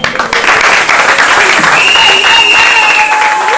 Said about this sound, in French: Applaudis pour elle.